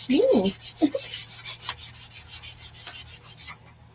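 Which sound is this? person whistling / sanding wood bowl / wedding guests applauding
sanding wood bowl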